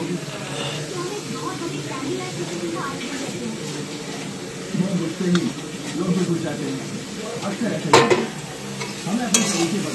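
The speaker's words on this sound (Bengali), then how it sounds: "এবারে এটা ভালো করে নাড়তে থাকবো।" Taro greens with grated coconut are stirred in a frying pan, a scraping, rustling stir over a faint sizzle, with a voice speaking over it and a few sharper clatters near the end.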